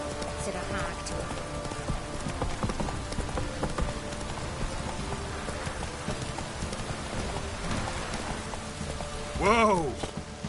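Roach the horse galloping in The Witcher 3, steady hoofbeats running under rain and background game audio, with a brief rising call near the end.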